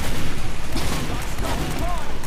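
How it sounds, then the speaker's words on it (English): Loud, rapid gunfire in a Team Fortress 2 match, a dense fusillade of overlapping shots and bursts lasting the whole moment, with voices talking over it. "It's a lot of gunfire."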